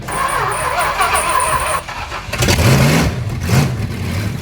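A tuned-up 440 cubic-inch big block V8 in a junkyard Suzuki Samurai cranks, catches and fires up, then revs in a couple of loud, close blips before settling toward idle.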